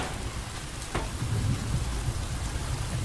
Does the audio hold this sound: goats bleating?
no